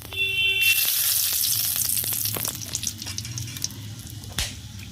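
Bay leaf, cinnamon and cardamom dropped into hot oil burst into a loud sizzle that keeps crackling and popping, with occasional stirring clatter and a sharp knock near the end.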